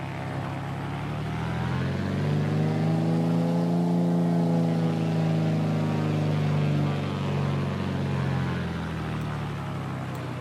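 Twin piston engines of a Piper PA34 Seneca V in a flight simulator, heard from outside the aircraft: a steady, loud, resonant drone with layered harmonics that swell gently and beat against each other, continuous throughout.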